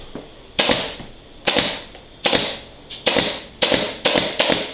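A staple gun fires into sofa arm upholstery with about eight sharp, loud snaps, spaced unevenly and quickening toward the end, close up with no talking.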